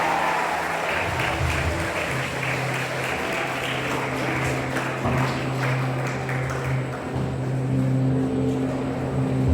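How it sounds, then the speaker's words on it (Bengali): Steady, dense applause from an audience welcoming Shanti Mashi onto the stage at a Labour Day 2024 gathering, sustained for the whole stretch with a low hum underneath. "একটা জোরে হাততালি শান্তি মাসির জন্য"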